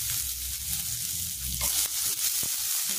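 A small onion sautéing with fried garlic in a pan, a continuous bright hiss of frying with a few utensil scrapes and taps toward the end, no voices.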